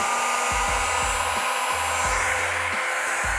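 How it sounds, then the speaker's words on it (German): A hair dryer blows steadily at close range over wet acrylic pour paint, with a constant loud whoosh of air. Repeated low thumps and bumps sound beneath it as it is moved around. "Föhn wegpusten,"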